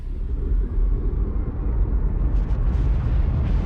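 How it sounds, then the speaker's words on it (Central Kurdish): A heavy, sustained low rumble of bombing explosions from a stealth bomber strike, loud and continuous throughout with no distinct separate blasts and no voices. "دوژمنەکەی ئەو کاتە پێی دەزانێت کە دەنگی تەقینەوە دێت"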